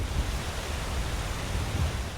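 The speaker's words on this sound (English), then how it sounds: "Most of us have heard the sound of a running river or of a waterfall." Steady, broadband rushing water roar with a deep low rumble, like a waterfall or fast river in the video game Skyrim, continuous and even throughout.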